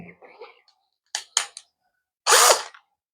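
Power drill driving a long self-drilling screw through metal while repairing a plastic folding table with plywood: a few short whirring bursts, then one louder sustained grind near the end, with brief speech at the start.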